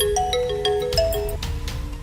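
Melodic phone ringtone for an incoming call, a bright repeating sequence of chiming tones playing steadily and fairly loud on its own for about two seconds with no talk.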